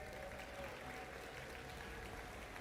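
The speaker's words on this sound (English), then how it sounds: "So give yourselves a round of applause." Audience applause at the Pokemon Worlds closing ceremony, a steady, even wash of many hands clapping that stays level for the whole stretch, heard somewhat distant and faint.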